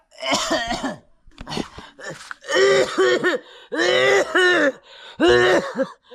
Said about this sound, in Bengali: কাশে কে রে?